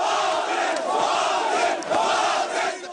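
Protest crowd in Egypt against Mubarak erupting as Friday prayers end, a dense, loud roar of many voices shouting together, sustained throughout with surging swells.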